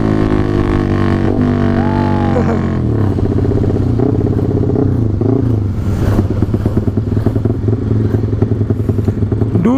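A Satria two-stroke motorcycle fitted with a 240cc two-cylinder engine runs loud and close, its engine note rising and falling through revs with a rough, buzzy drone and some mechanical clatter.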